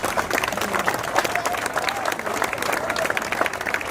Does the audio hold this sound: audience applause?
yes